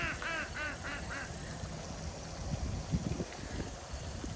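Several ducks quack in a quick run of calls early on beside a campground pond, then fade under steady outdoor ambience and scattered rustling.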